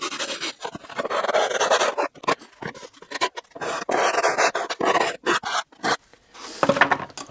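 Rough, rhythmic rasping of 120-grit sandpaper on a homemade sanding stick rubbed back and forth in quick strokes, close up, with brief pauses between passes, while building an electric RC plane.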